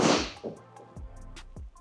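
Mini driver golf club striking a golf ball with a sharp, crisp crack at the start, followed by a few faint knocks and bumps in quiet outdoor surroundings.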